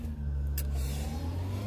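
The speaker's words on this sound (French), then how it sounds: "attendre que la moto soit passée" A motorcycle passes by at a flea market, its engine a low, steady rumble that carries across the whole stretch, with no talking over it.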